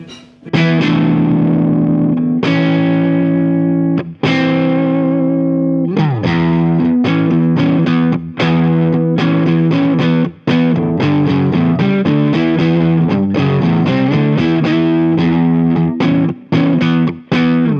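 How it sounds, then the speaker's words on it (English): Electric guitar played through a Boss DS-1 distortion pedal, loud and close, with a run of sustained distorted chords and rapid choppy strums broken by short pauses, no talk. "The distortion's a bit light for that."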